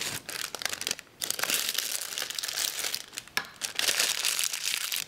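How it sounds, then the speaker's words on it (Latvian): Parchment paper crinkles and crumples loudly and close up as it is rolled and folded into a piping bag for carrot cupcakes, a continuous rustling with brief pauses. "No vēl viena pergamenta papīrīša mēs uztaisīsim maisiņu."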